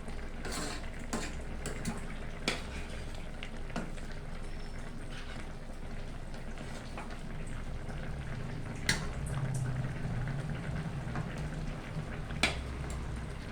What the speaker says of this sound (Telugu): మంచిగా ఇట్లా కొద్దిసేపు ఉడకనేయాలి